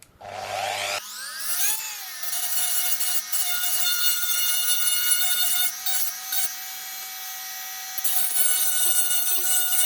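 A rotary engraver grinds against a knife blade, a high-pitched motor whine with shifting tones and scraping, running nearly continuously with brief dips.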